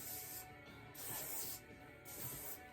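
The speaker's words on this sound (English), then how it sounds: "So just spraying around the perimeter again." Hairspray hisses from an aerosol can in three close, steady bursts as it is sprayed around the perimeter of the hair, quiet and alone with no talk.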